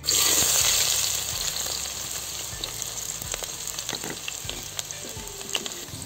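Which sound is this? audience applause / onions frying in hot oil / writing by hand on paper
onions frying in hot oil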